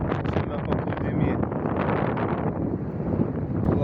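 Strong wind buffets the microphone on a beach on Rhodes where two seas meet, a loud continuous roar and rumble throughout, with waves and a voice talking beneath it.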